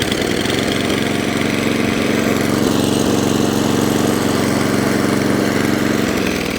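An Atco Balmoral cylinder lawn mower, with its belt-driven cylinder pulley, runs loud and close with a steady droning engine and a constant whirring cut from the blades, unbroken throughout and with no talking.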